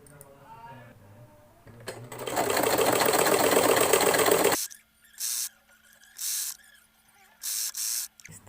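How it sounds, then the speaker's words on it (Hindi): A sewing machine stitches a fabric strip onto a small table runner, first in one loud, fast, continuous run of about three seconds, then in several short separate bursts. Someone speaks briefly before the stitching starts. "अब इसको हम ऐसे सिल लेते हैं।"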